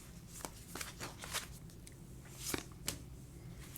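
A tarot deck is shuffled and cards are drawn, soft riffling flicks and sharp card snaps close by in a quiet room, with no speech.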